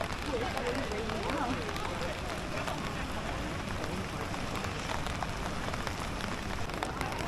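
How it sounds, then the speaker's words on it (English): Heavy rain pours steadily in a Japanese city street, a dense continuous hiss and patter close to the microphone, with no pauses throughout. "The rain is really coming down now."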